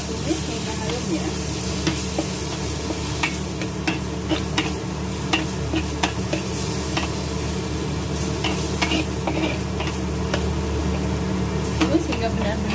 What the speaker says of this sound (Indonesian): Setelah itu kita tumis hingga harum ya.